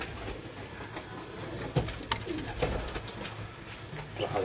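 Domestic pigeons in a keeper's loft cooing in low, soft repeated calls against steady background noise, fairly near, with no one speaking.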